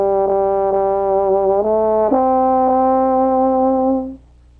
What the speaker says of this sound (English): The trombone sounds like this.